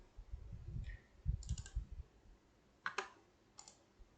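A few soft computer clicks land singly and close together, faint and close, over a low murmur of room noise.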